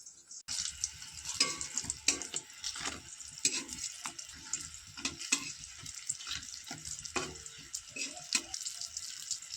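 Jute leaves fry in a pan with a continuous crackling sizzle broken by repeated stirring scrapes, close and fairly soft.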